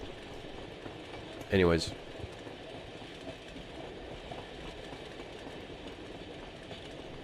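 Train passing in an in-development Unreal Engine game, a short rattling clickety-clack burst with a rising whistle-like squeal around two seconds, over steady background hum, with a voice speaking briefly.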